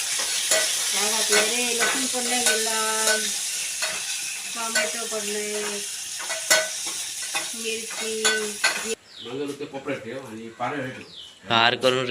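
Spiced tempering sizzles in a pan as dal goes in, with stirring and crackling under near-constant talk.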